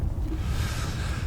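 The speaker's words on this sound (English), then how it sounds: "So apologies for the wind if you can hear the wind." Wind buffets the microphone with a constant low rumble and roar for the whole clip, and no other sounds come through.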